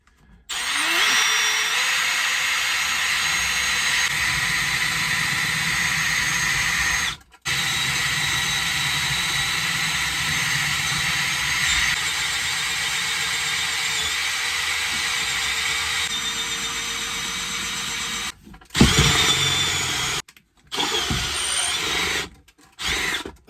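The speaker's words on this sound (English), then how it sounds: "So now we're gonna drill through here where we want our cable to come out of." A power drill runs loud and close, drilling through a wall for an outdoor security camera cable, grinding steadily for long stretches with brief pauses, then a few shorter bursts near the end.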